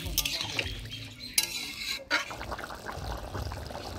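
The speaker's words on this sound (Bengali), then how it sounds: "এবার জল দিয়ে দেবো" Water goes into a pan of potatoes fried with ground spices for a pabda fish curry, with soft sloshing, splashing and a ladle stirring and scraping the pan in uneven bursts.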